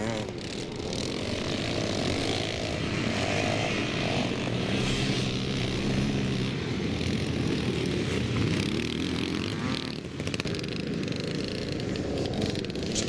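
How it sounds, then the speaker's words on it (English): Yamaha YZ motocross bikes race around a dirt track, their engines making a continuous loud buzzing roar that stays dense and unbroken throughout, with a faint voice underneath. "Ian Robertson still going well on that YZ Yamaha"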